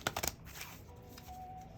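Saviors of Kamigawa trading cards being shuffled by hand, with a few quick, close papery riffles packed into the first moment, then a quiet stretch with a faint steady tone in the background.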